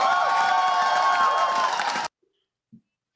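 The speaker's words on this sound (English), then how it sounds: "This is a typical press conference, I guess, with people cheering." A crowd at a New York political rally cheers loudly and continuously, a dense roar that cuts off abruptly after about two seconds, leaving near silence with one soft thump.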